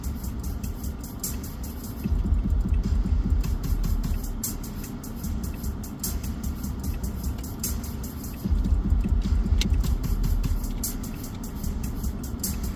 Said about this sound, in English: that car went straight